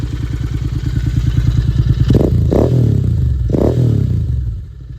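A Royal Enfield 650 twin motorcycle with Gursewak aftermarket exhausts idles with a deep, throaty, loping note. It gives two quick revs that rise and fall, then the engine cuts off at the end.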